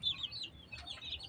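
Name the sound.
backyard chickens clucking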